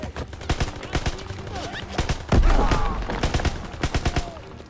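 Gunfire and a grenade blast in the Call of Duty armored train level, set among smoke: rapid loud shots ring out in bursts, with a heavier boom midway and more scattered firing after.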